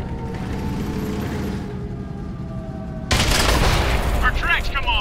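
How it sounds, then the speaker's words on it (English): Tanks in World of Tanks battle: a sudden loud metallic boom and clanking crash as the tracks come off, after a steady engine drone, followed by rattling mechanical noise. "Our tracks come off! We're stuck!"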